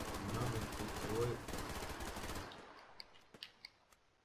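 Rapid automatic gunfire in the online shooter Survarium, a dense burst for about two seconds, then scattered single distant shots, with a voice talking over it.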